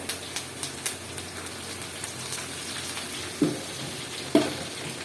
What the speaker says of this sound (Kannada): ಕರಿಬೇವು ಹಾಕ್ತಾ ಇದ್ದಾರೆ